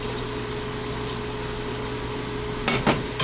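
Onions for French onion soup are stirred in a pot, a steady close sizzle and soft frying hiss with a couple of brief scraping clatters near the end, no voices.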